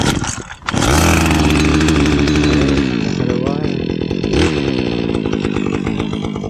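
A Husqvarna 135R brushcutter with its two-stroke engine pulled into life, revving loudly at first and then settling into a steady, buzzing run close to the microphone.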